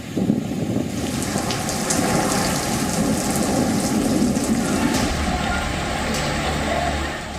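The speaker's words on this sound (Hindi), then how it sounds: "राजस्थान में कल से लगातार बारिश हो रही है।" Heavy rain pours steadily over flooded Dungarpur in Rajasthan, a loud, dense, continuous downpour with low rumbling underneath, no voices present.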